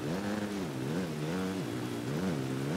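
Motocross motorcycle engine in the rain-soaked MXGP 2019 racing game, a continuous close buzzing drone that rises and falls in pitch several times as the throttle is worked, with no talk over it.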